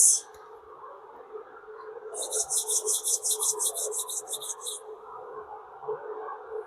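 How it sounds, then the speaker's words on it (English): Palms being rubbed together during a yoga stress relief session make a quick, steady swishing rasp lasting a few seconds, heard close over a low background hum, with brief talking at the start. "Rub your palm."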